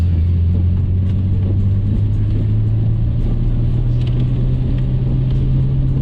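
A Nissan Skyline R34 GT-R drives on a two-lane road in Japan, its engine a loud, steady low rumble with road and wind noise heard from inside the car, no voices.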